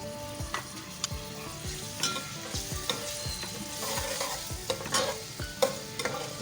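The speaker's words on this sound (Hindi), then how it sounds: "इसको हल्का सा हम फ्राई करेंगे 30 सेकंड तक।" Ground onion paste and ginger garlic paste fry in a pan for a beef paya curry, giving a steady close sizzle broken by repeated scraping stirs, with no talking.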